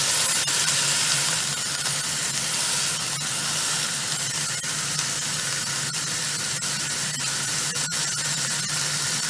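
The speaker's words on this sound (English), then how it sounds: "So we put that steak down" Beef steaks sizzle loudly and steadily in a hot pan, a dense, continuous hiss and crackle close up with scattered small pops throughout and no talking.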